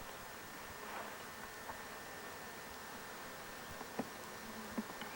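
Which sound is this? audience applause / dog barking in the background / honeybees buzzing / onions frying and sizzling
honeybees buzzing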